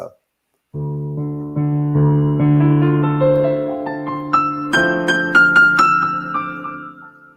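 A sustained synthesizer keyboard tone, rich and layered, swelling as higher notes stack on top and ringing out before fading.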